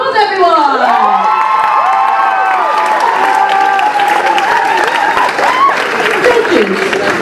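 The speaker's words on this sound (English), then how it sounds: "Another round of applause, everyone." A lively student audience at a university ballroom dance contest claps loudly and cheers, with whoops and shouting rising over steady applause while voices carry through it.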